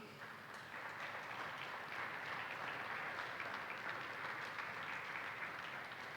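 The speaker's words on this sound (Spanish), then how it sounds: "No sé si le puedo dar una ofrenda de palmas al Rey" A church congregation claps together as an offering, a broad, even wash of many hands that rises quickly and holds steady throughout, fairly distant and with no voices on top.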